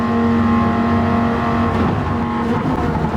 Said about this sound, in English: I just want to mention the noise of this car.